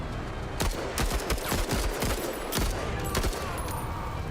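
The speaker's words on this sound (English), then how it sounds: "let's just have him shoot the survivors" Gunfire from units in the video game Menace, a rapid fusillade of sharp shots cracking in quick irregular succession, close and loud.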